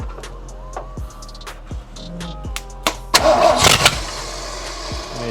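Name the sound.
V8 engine starting after carburetor priming, S14 swap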